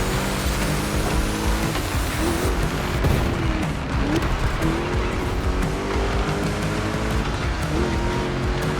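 A car in The Crew Motorfest drives hard with a continuous roaring engine, with tires squealing and skidding across the whole stretch, loud and close.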